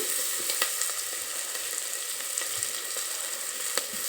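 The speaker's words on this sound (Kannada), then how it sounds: "ಎರಡು ಸ್ಪೂನ್ ಎಣ್ಣೆ ಹಾಕಿದ್ದೀನಿ ಎಣ್ಣೆಯಲ್ಲಿ ಈ ರೀತಿ ನಾನು ಬಾಡಿಸ್ಕೊಳ್ಳಿಕ್ಕೆ ಫ್ರೈ ಮಾಡ್ತಾಯಿದ್ದೀನಿ" Masala chilies frying in two spoons of oil, a steady, moderately quiet sizzle with occasional soft crackles and light stirring taps.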